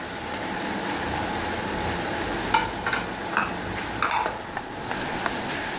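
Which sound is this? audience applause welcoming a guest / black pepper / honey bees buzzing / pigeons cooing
black pepper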